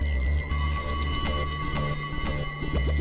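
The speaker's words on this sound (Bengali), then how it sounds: "ওহো, আবার ফোন" A telephone rings with a steady electronic tone, clear and close, in a busy domestic comedy scene, the ring continuing for several seconds with faint background murmur.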